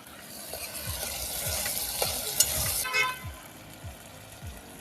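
Green masala tossed into a pot of khichdi being cooked at a beach campsite, with steady frying sizzle and rhythmic scraping strokes of a spoon stirring the pot, a few louder clinks in the middle.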